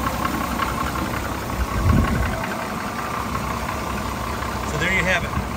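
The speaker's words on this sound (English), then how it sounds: "Listen to how quiet that engine is." Engine of a 1979 Jeep CJ7 idling quietly with a low, even rumble and slight knock, heard nearby beneath faint background noise, with a brief bump partway through.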